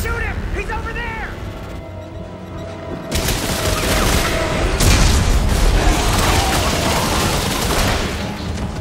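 Gunfire in Dead Space 3 erupts into heavy, continuous bursts and booms that stay loud and dense throughout, after a brief stretch of voices and effects.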